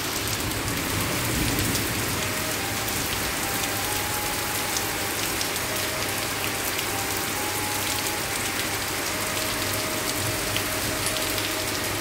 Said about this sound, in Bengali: ঝড় বৃষ্টি দুটো একসাথে শুরু হয়েছে।